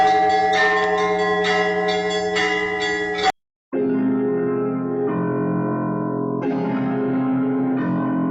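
Deep, low bell tones ring in a sustained, reverberant chord within a classical composition, then break briefly before brighter, higher bell strikes layer over a resonant low drone, loud and without talk.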